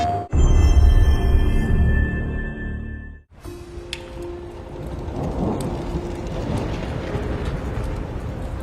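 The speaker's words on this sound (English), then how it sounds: "quite the storm we're having" Thunderstorm with rain during Fimbulwinter in God of War Ragnarök: a loud, steady wash of heavy rain with a deep rumble, after a short cut away from an earlier sound.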